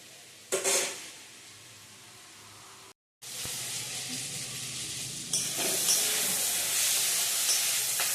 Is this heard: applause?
no